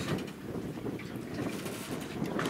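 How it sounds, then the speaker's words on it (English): Wind buffets the camera microphone aboard a dive boat off Key Largo, a steady, loud low rumble that fills the whole stretch with no clear talk. "I'm trying to block the wind and do this at the same time."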